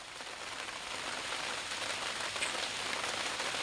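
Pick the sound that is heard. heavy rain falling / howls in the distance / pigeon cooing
heavy rain falling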